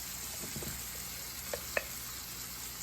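Leftover masala fries slowly with fish in a pan, a faint, steady low sizzle with a few soft taps of stirring, close but quiet and without speech.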